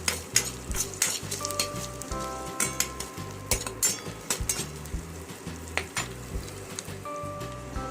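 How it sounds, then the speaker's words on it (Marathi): Curry leaves frying in a pan for sprouted matki usal, a close, crackling sizzle with rapid irregular pops and spatters throughout, no voices. "कढीपत्ता पण छान परतवू द्यायचा"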